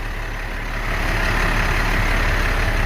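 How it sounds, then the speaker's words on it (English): Close up, the engine of a 2007 International 4400 grapple truck runs at a steady idle, a low, even rumble that grows slightly louder after the first second and holds with no talking. "We were able to connect it in order to get the motor running."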